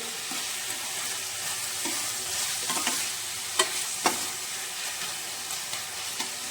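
Peas, potato and carrot sabzi with salt frying in a heavy-bottomed kadhai, a continuous close sizzle with occasional spoon knocks and scrapes, fairly quiet and free of talk.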